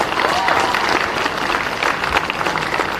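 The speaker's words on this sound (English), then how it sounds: "Can we give this wonderful vision a big round of applause" A big round of audience applause at an annual day celebration, dense clapping sustained for a few seconds with crowd murmur and faint voices mixed in, close and fairly loud.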